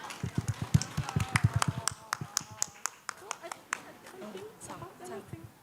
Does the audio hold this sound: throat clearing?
no